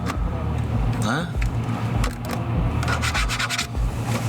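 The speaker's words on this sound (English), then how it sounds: "This plastic is so cheap. Just listen." Hand rubbing cheap plastic interior trim inside a Mercedes-AMG E63S, a close scratchy friction noise with a few creaks, under the low hum of the car.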